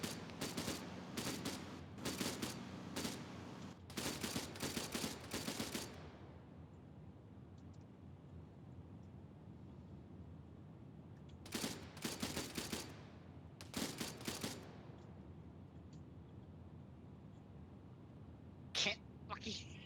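Bursts of gunfire in an Arma 3 video game ambush: several rapid volleys crackle in clusters, fall quiet, then return in two more short bursts, with faint talk underneath.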